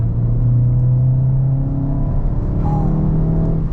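A Skoda Octavia 4 engine held at high revs, a loud steady drone with a slowly rising pitch that stays strong throughout, with no voices over it.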